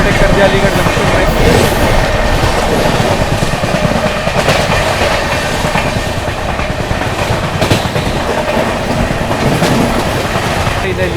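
The 12556 Gorakhdham SF Express runs through Aligarh Junction, heard from on board as a loud, continuous rumble and rattle of coaches with rhythmic wheel clatter and faint voices in the carriage.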